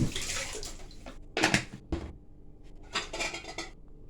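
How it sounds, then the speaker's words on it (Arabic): Ingredients for Moroccan lubia being pounded in a frying pan in place of a mortar, a few irregular metallic knocks and scrapes close by, separated by short pauses. "غادي ندقهم غير في هذا المقيله"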